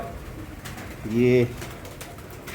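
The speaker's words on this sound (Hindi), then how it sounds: "कबूतर ही कबूतर हुए हुए हैं।" A pigeon gives one clear, close coo among a flock of pigeons, set against low background noise, and a voice speaks briefly.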